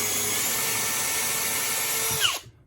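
A power drill spins at a high, steady whine while boring a hole through a helmet shell. The drill is close and loud, then winds down and stops near the end.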